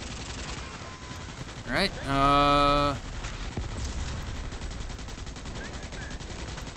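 Rapid automatic gunfire from the Starship Troopers Extermination video game rattles in a loud, sustained burst during a fight against hordes of bugs, over constant background game noise, with a player speaking briefly.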